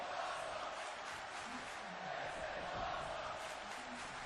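A live wrestling show crowd keeps up a steady, roaring cheer through an event match, a broad wall of voices with whoops rising and falling but never dropping out.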